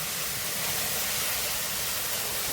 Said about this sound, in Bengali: এবার টমেটোটা একটু ভেজে নেব।